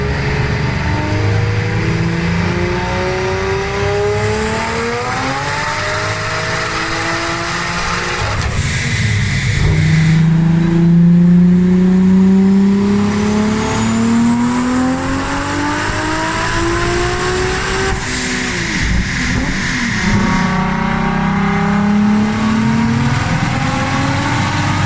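A car with an R36 engine revs continuously, its pitch rising and falling across several sweeps, loud and close with a broad roar and no talking over it.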